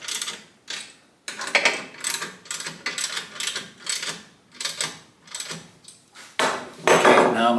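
Adjustment bolts being snugged on the infeed table of a Craftsman jointer, heard as a series of close metallic ratcheting and clicking bursts in an irregular rhythm, ending in a louder scrape.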